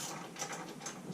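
Ratchet wrench tightening suspension bolts on a Triumph Spitfire 1500, quick faint clicking pawl strokes repeating in a short, close burst.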